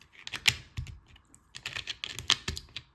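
Small plastic LEGO bricks clicking and rattling as they are sorted by hand while building the 1985 LEGO 107-2 Canada Post Mail Truck, a close series of sharp irregular clacks with brief pauses, no voices.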